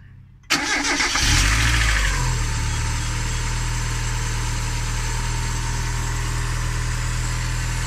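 A Mazda MX-5 engine cranks briefly and catches, then settles into a steady, close idle that runs on loud and unbroken with no talk.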